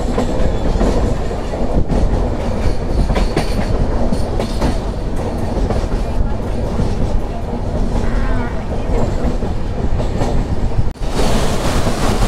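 The Kulik Express rolls steadily along the line near Farakka, a loud continuous rumble of wheels and carriages with rhythmic clatter and brief squeals heard from inside the train.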